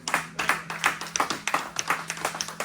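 Church worshippers clap in acclaim during a French-language sermon. The claps are distinct, strong and evenly timed, a rhythmic pattern that sounds close and carries on without speech.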